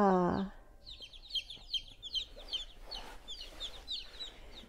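Two-day-old baby chicks, including a black Australorp, peep in a steady stream of soft, high chirps. The peeps come at an uneven pace and sound close by. Near the start there is a short, louder burst of a lower call.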